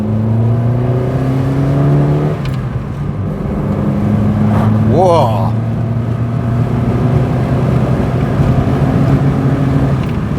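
A Triumph Acclaim's engine revving hard as the car accelerates, heard from inside the cabin as a loud, continuous drone rising in pitch through the gears, with a brief exclamation from a person partway through.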